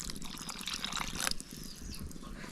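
Water poured into a pot of cowpea curry with brinjal and potato, a continuous splashing trickle for about a second and a half that then softens, fairly quiet and close.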